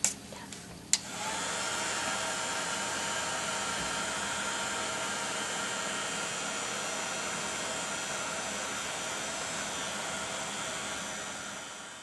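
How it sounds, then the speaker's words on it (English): Heat It craft heat tool blowing hot air over a metal piece being treated with patina, a steady loud whooshing hiss that starts after a couple of brief clicks and runs unbroken throughout. "go in again and heat this with the Heat It tool before I apply my glaze"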